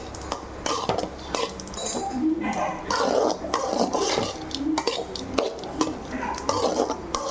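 Mango rice mixed with ghee in a pot, heard as repeated clinks and scrapes of a metal spoon against the pot in an irregular rhythm, close and fairly loud.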